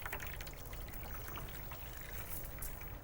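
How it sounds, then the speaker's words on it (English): Water is poured around the outside of a creme brulee dish, making a quiet, steady trickle and gentle splashing close by, with no one speaking. "Then put water around the outside."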